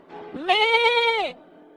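A single goat bleat from a Hindi cartoon story, a loud, wavering cry lasting under a second that rises and falls clearly on its own, with no talking.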